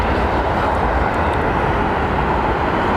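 Fixed-wing jet aircraft at London Heathrow Airport, a steady loud broadband engine roar that stays constant throughout, with no voices.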